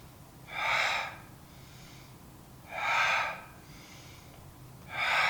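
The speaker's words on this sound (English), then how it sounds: "Inhale through the nose. Exhale through the mouth." Three slow, evenly spaced breaths out through the mouth during a gentle corrective workout, each a soft airy rush lasting about half a second, close and clear over quiet background.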